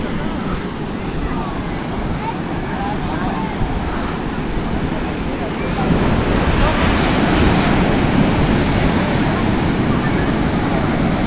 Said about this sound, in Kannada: ಅಲೆಗಳು ನೋಡ್ತಿದ್ರೆ ಖುಷಿ ಆಯ್ತಿದೆ